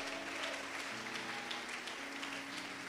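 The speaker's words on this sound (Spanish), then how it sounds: "Aplauda al Señor esta noche." A Pentecostal church congregation claps for the Lord during an evening service, a continuous, even patter of many hands heard faintly and from a distance.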